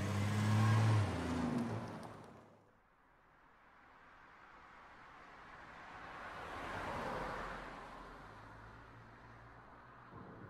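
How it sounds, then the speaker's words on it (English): Car accelerating away as a radio drama effect, engine rising to a rev, then a softer swelling rush that builds and fades into the distance. "I stepped on the gas like a shot, leaving him waving at me in the rearview mirror"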